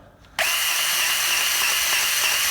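A steady mechanical whir starts abruptly and runs continuously, a Snap-on CGG8850 motorized grease gun pumping in low mode at a constant rate, loud and close.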